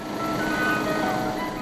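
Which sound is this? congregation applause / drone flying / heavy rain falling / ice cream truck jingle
ice cream truck jingle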